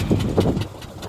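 A tractor engine drives a groundnut digging machine on a farm field, a close, steady rumbling drone with slight pulsing, heard alone for about a second.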